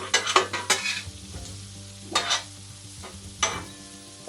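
Hash browns stirred and sizzling on a hot griddle heated past 350 degrees, with repeated scraping stirs over a steady frying crackle, close and fairly loud.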